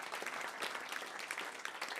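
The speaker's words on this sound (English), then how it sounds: "could you please just give a round of applause to all the people at Komedia?" An audience claps throughout a comedy show at Komedia, a dense, moderately loud, continuous patter of hands that swells slightly at the end.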